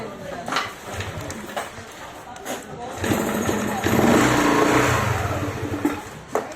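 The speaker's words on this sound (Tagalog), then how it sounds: "Rev mo lang kasi walang idle." A Yamaha Aerox scooter with an error 46 fault, which will not idle, has its engine revved close by in a loud, rising mid-pitched drone. People talk over it.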